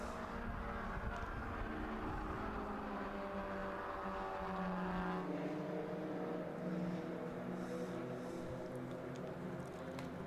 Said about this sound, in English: 2 of the MX-5s on track here battling amongst each other.